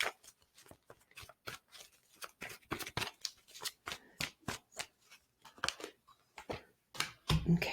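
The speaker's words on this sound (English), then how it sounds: "Let me just get a card for the Hierophant" Tarot cards are shuffled and drawn by hand, with many crisp, close riffling and snapping bursts in an uneven rhythm and quiet gaps between them, ending with a soft handling thump.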